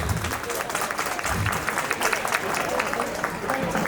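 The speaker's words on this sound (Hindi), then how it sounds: "जोरदार तालियां" Loud applause from an audience at a school annual function after a performance: a short, dense burst of clapping that stays steady throughout, with crowd murmur underneath.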